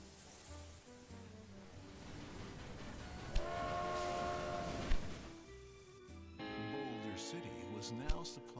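Trains in the Railway Empire 2 game run near the Hoover Dam and Vegas Valley, with rumbling wheels, horn-like tonal blasts and clanks layered over game ambience, while a voice talks over parts of it.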